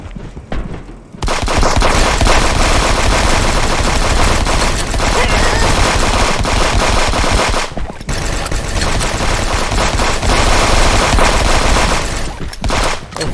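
Relentless video-game gunfire against helmeted enemies, a dense, loud wall of overlapping shots and bursts that barely pauses over many seconds, close and overwhelming.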